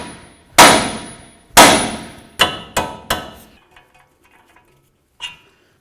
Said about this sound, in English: Now we're going to take a hammer and we're going to hit right here on the knuckle.